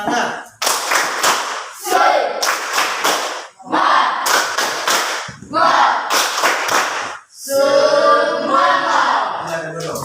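A classroom of children stands and performs a rhythmic spirit clap, loud bursts of patterned clapping mixed with shouted chanting voices, in several bursts separated by brief pauses, ending in a sustained group shout.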